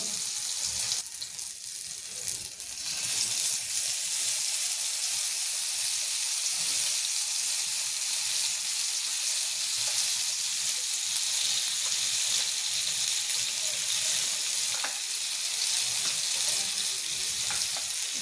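Eggplant slices frying in a little oil in a pan give a steady, broad sizzling hiss that holds evenly throughout, close and continuous with no talk.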